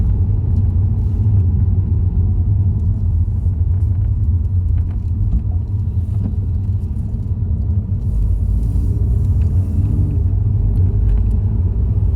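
A motorbike passes on the Stelvio Pass mountain road, heard as a loud steady engine rumble against wind, with no clear rise or fall in pitch.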